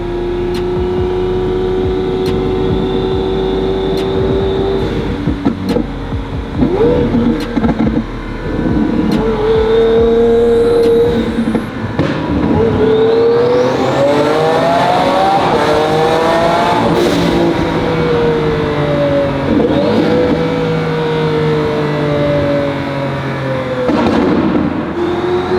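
A twin-turbo Lamborghini Aventador is driven through traffic, its engine rumbling steadily and rising in pitch as it revs, with sharp crackles and pops through the exhaust, loud and close throughout.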